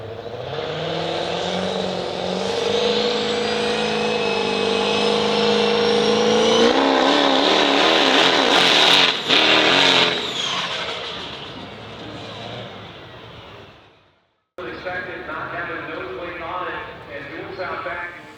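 A 6-liter race car roars down a drag strip at an event, its engine screaming up through the gears, loud and sustained before a brief cut, with crowd and commentary noise under it.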